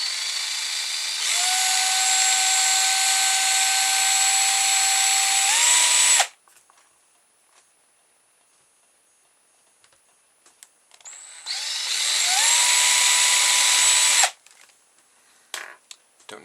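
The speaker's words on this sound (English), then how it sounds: "I should just drill all of them" A power drill bores holes through a lemon at pen-marked centres in two bursts, each a loud high whine that rises in pitch as it runs, separated by a quiet gap with faint handling clicks.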